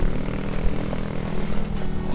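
A Mio M3 scooter-motorcycle fitted with an Emberr Gledek exhaust revs under throttle, a loud, close, continuous engine drone with a rough low rumble and slight rises in pitch, heard alone without talk.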